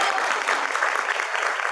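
A school audience claps for the principal in sustained, even applause, dense and fairly loud throughout.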